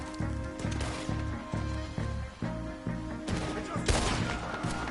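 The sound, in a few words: gunshots in Red Dead Redemption 2 video game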